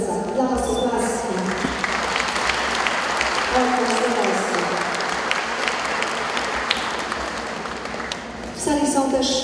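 An audience in a school sports hall at its opening ceremony applauds the schoolchildren with sustained, dense clapping that fills several seconds, with a speaker's voice heard just before and after.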